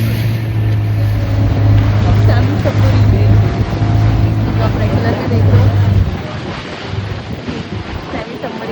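A boat named Kingfisher motors across the sea toward Elephanta Island, its engine a steady loud drone mixed with constant wind buffeting and splashing waves, with people talking over it.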